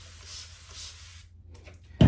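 Two quick hissing bursts of warm water from a spray bottle misted onto curly hair while styling, close and soft, followed by a quiet pause and a sudden louder thump at the end.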